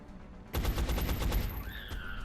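Automatic gunfire in the video game XCOM: a sustained rapid burst of shots aimed at a sectoid alien, loud and close, trailing into ringing tones at the end.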